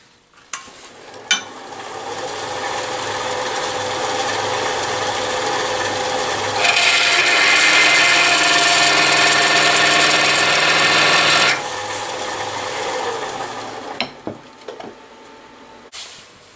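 A Sorby spiraling and texturing tool cuts spinning wood on a lathe, giving a loud, steady, close rasping whir that swells louder midway, then settles back before fading, with a few faint clicks at the start and end.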